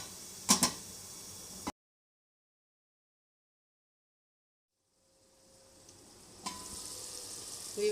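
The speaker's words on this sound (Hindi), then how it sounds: "अब मैं इसमें 1 कप पानी डालूंगी ताकि मटर हमारे थोड़े से गल जाएं" Masala and green peas sizzle in a pot for matar pulao as a cup of water goes in: a sharp crackling hiss, then a sudden silence, then a steady frying hiss that swells back up with a few clinks, with no talking.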